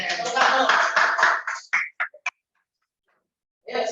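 A short burst of clapping from a small group of people in a classroom, loud and close, mixed with voices, then tapering off into a few scattered claps and silence.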